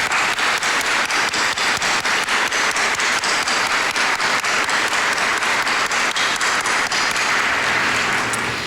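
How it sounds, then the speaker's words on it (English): Sustained applause from a ceremony audience honoring staff at a medical school white coat ceremony, steady dense clapping filling the room at full volume throughout with no talk over it. "please offer a round of applause to the staff of the Offices of Student Affairs and Medical Education"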